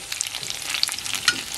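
A thick salmon steak frying on low heat in butter and olive oil, a brief, close crackling sizzle with small pops and spatters.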